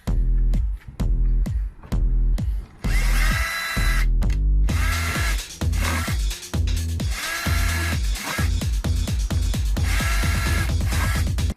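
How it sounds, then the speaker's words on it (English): A handheld power drill bores into an empty plastic laundry container in repeated short, loud whirring bursts separated by brief pauses, with some longer continuous runs. "We've got a drill"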